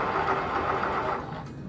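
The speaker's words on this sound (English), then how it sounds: "we're gonna sew all the way down" A sewing machine runs steadily, stitching fabric down a seam with a wire guided alongside it during a thrift-store home decor makeover, a continuous close mechanical whir with no talking.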